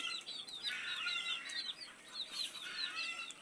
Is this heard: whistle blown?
no